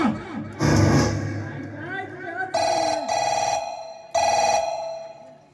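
A voice talks briefly, then a telephone bell rings loudly in three short bursts, the last two close together and fairly near.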